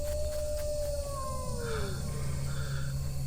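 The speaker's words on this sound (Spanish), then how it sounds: "aullidos." A wolf-like howl sound effect from a Spanish-language audio drama rises and then glides downward in one long, drawn-out cry over a low rumbling background, fading near the middle of the stretch.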